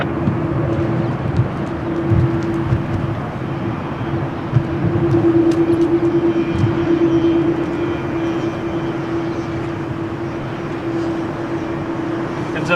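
A Portuguese Air Force plane at Lisbon Airport on a windy day gives a steady, broad engine roar with a constant hum, a voice speaking faintly underneath.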